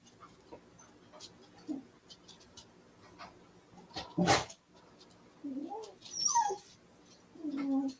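Dogs indoors barking and whimpering, with soft whines, short yelps and one sharp loud bark mid-way, fairly close against a quiet room with faint background voices.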